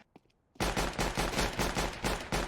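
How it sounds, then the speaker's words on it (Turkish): Video game gunfire erupts after a brief quiet moment, then continues as a loud, sustained rapid burst of shots. "Adama bir mermi atsan yeterli."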